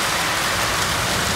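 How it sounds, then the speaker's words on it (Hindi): Steady, dense rain pours down on a parked Royal Enfield Hunter 350 motorcycle, a loud continuous hiss and patter close by with no talking. "देखो कितनी बढ़िया बारिश आई हुई है।"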